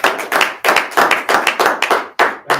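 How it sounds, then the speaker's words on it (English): Close, loud clapping from a small group at a bullpen meeting, about a dozen sharp, separate hand claps in an uneven rhythm with brief gaps between bursts. "Give him a round of applause."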